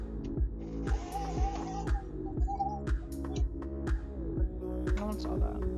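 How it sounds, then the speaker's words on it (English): A stand mixer beats butter for a lemon raspberry birthday cake with a steady rhythmic motor throb and regular thumping pulses, close and continuous, with faint brighter clatter above it. "we are going to go ahead and start the mixer to beat that butter"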